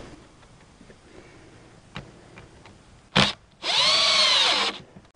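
A power drill bolting down a part of a pontoon boat's center console, with a short burst, a brief pause, then a longer whirring run that rises in pitch before stopping, heard close.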